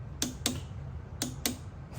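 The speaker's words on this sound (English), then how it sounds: "let's go ahead and torque the drain plug up." A torque wrench tightens the final drive drain plug on a Triumph Tiger 1200 to 25 Nm. Four faint, sharp ratchet clicks come in two quick pairs over a quiet background.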